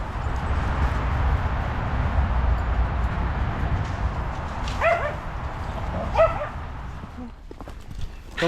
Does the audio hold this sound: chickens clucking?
no